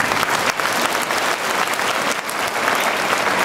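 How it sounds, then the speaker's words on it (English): Audience applause at a campaign event, a dense, steady wash of clapping that fills the space and stays loud and even for the whole stretch, with no voices over it. "give yourselves a round of applause"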